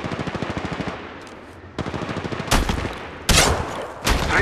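Rapid automatic gunfire from an enemy squad in Apex Legends Mobile, with fast rattling bursts, a brief pause, then louder, closer sharp blasts and shots trailing off, with no voices over it.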